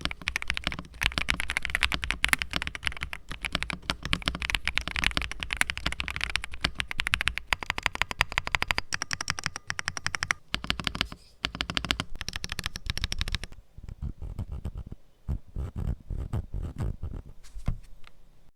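Rapid typing on an Attackshark X820 Ultra 75% mechanical keyboard, a dense stream of clicky keystrokes that runs steadily, then thins into shorter bursts near the end.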